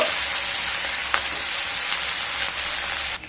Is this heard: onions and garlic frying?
yes